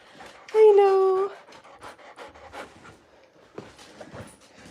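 Small dogs greet their owner excitedly with a high whining yelp, then quick panting breaths and scuffling, heard up close while a person speaks over them.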